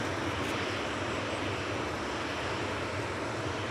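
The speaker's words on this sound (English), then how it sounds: "GJZDH lined up and ready to go to Alicante with flight 879" A Boeing 737-800 lined up for departure at Manchester Airport gives off a steady, dense engine roar that stays loud and unbroken throughout.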